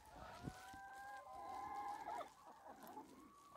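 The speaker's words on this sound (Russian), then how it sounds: "Сейчас куры уже ужинают." Pastured hens cluck and make drawn-out calls nearby while eating their evening feed by a mobile coop, quiet and fairly steady, with no talking.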